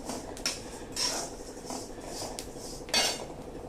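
Fennel seeds dry-roast in a pan while a spoon stirs and scrapes them, giving intermittent metallic clinks and scraping strokes at a moderate, close level.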